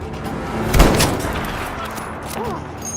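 Gunfire rings out in a Battlefield V multiplayer match, a loud burst of shots and a booming report near the start, then trailing battlefield noise.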